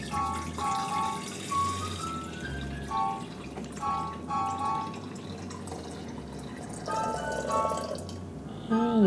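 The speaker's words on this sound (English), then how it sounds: "So I'll just pour some water in." Water pours into the tank of a small LG Waveforce speaker in a few brief trickling bursts with splashing and dripping, close up and moderately quiet over a low background hum.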